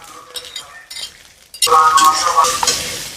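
Onion paste with ground cumin hitting hot oil in a pan, a sudden loud sizzle that holds steady after light clinks and stirring, with a voice speaking over the start.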